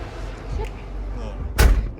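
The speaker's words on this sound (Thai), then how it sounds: "ปิดประตูก่อนนะครับ" The cab door of a Caterpillar 320EL-2 excavator shuts with one loud, heavy thud near the end, after quieter rustles and handling noises inside the cab.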